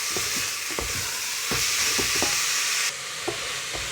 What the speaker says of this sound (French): Vous cuisez un petit peu le haché.